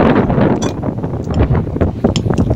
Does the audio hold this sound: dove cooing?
no